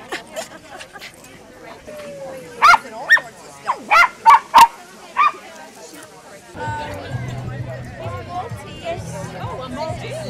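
A dog at an animal shelter charity walk gives a short run of sharp barks and yips, several close together, amid outdoor crowd chatter and people talking nearby.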